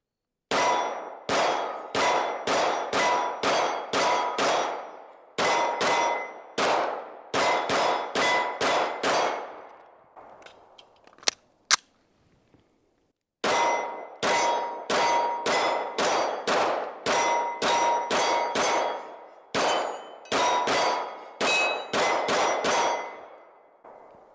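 Springfield Armory XD Mod 3 pistol fired outdoors in rapid strings of shots, several bursts of sharp cracks separated by short pauses and a quiet gap midway, loud and close with no talking.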